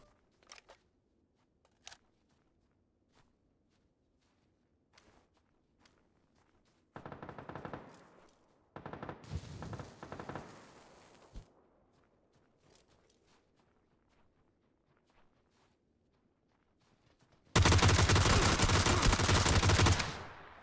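Game gunfire from PUBG on Xbox One comes in short automatic bursts, with a long loud burst near the end, separated by quiet stretches of faint footsteps and clicks.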